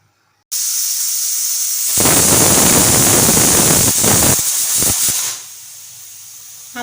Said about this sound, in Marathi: आपली एक शिट्टी झालेली आहे।